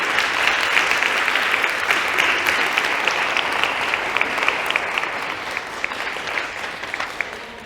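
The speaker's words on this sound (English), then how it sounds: "Can we please give her an applause for Dr. Precious Motsepe?" An audience at a STEM careers event claps for a speaker, a dense, sustained round of applause that keeps going at full strength and thins slightly near the end.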